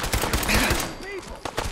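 Gunfire from Fallout 4 combat against raiders at the Corvega Assembly Plant, a clustered run of shots and impacts at moderate level, with someone talking over part of it.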